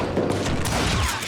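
A gunshot in Call of Juarez Gunslinger, a loud, sharp blast with a boomy tail in a noisy game scene.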